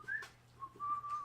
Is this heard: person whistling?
yes